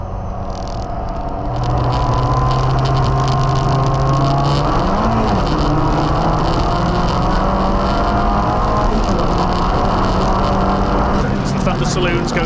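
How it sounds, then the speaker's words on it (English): Thunder Saloons race cars, including a pack of BMWs, roar loudly together into the first corner at Snetterton circuit, a constant engine drone with rising and falling revving as they pass, under a commentator's excited talk. "Thunder Saloons go thundering into the first corner"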